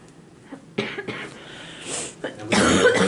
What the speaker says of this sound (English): How can I get my coughing to stop?